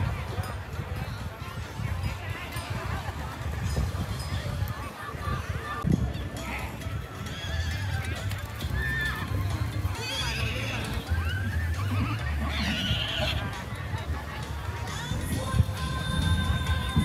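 Racehorses neighing at a village horse-racing festival at Gò Thì Thùng, An Xuân, Tuy An, Phú Yên, with whinnies rising over a constant din of loudspeaker commentary, crowd noise and low rumble.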